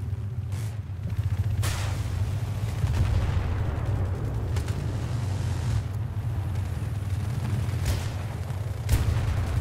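Gunfire rings out in the video game Battlefield 3 as a few sharp, scattered shots and distant booms over a continuous rumbling low-frequency battle drone, without voices.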